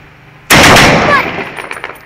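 Celebratory gunfire outdoors: a sudden loud burst of rapid shots erupts, then trails off into scattered fainter cracks and echoes.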